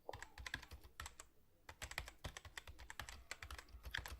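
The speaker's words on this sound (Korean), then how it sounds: "그러면 제가 검사 결과 조금만 타이핑 해볼게요." Computer keyboard typing during a doctor role-play at a health screening center, with quick, close, soft clicks in an irregular rhythm, a brief pause partway through, and no talk.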